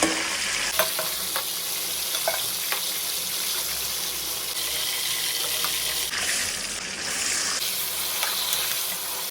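Meat sizzles and crackles in hot oil, a dense steady frying hiss with occasional sharper pops and stirring scrapes, close up and without voices.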